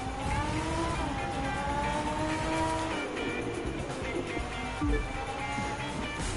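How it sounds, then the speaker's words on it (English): Audi R8 Coupe V10 Plus driving in the racing game The Crew 2, a steady loud engine drone with shifting pitch as it revs and changes gear, continuous throughout. "driving the Audi R8 Coupe V10 Plus"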